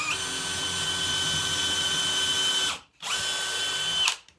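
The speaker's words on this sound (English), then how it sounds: "I'm going to pre-drill" Power drill pre-drilling a 2x4 before driving 3-inch drywall screws, a loud steady high whine running close up for nearly three seconds, a brief stop, then spinning up again before cutting off.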